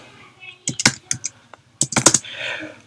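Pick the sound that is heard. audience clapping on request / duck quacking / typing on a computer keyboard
typing on a computer keyboard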